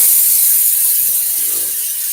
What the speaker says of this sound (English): I use a rotary sander or an inertia sander.